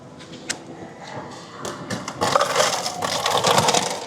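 Ice clattering and rushing out of a freestyle drink machine at a Disney Caribbean Beach Resort, a few sharp knocks first, then a steady loud tumble of ice into a cup for the last couple of seconds.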